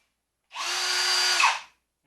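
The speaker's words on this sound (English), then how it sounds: "you turn on the drill" A power drill twisting tie wire into a braided cable whirs steadily at high speed for about a second, close by, then winds down to silence.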